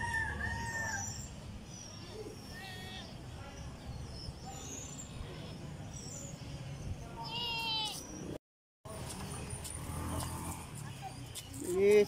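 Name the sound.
chicken crowing and clucking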